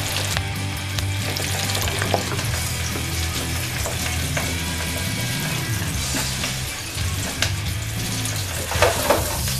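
Pork pieces fry steadily in hot oil in a home kitchen, a loud continuous sizzle with occasional stirring clatter and a low hum underneath, no talking.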